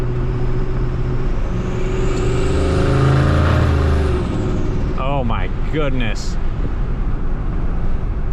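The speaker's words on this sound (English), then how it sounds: "That makes so much more noises than the last engine." A built-block, single-turbo Ford F-150 sleeper truck engine drones loudly and steadily while driving, its pitch climbing under the cabin noise, before a voice briefly exclaims over it.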